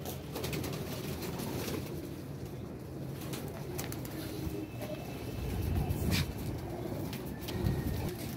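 Pigeons being kept for wing clipping coo repeatedly in a low, steady murmur, several birds close by with occasional chirps and wing flutters over a continuous background hum.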